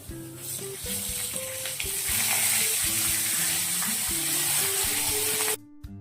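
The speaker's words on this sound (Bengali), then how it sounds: "দিয়ে দিয়েছি এবার আলুটা আর ঝিঙেটা একটু ভাজা ভাজা হোক" Potato and ridge gourd frying in a pan, a steady bubbling sizzle that runs close under tonal music, stopping abruptly near the end.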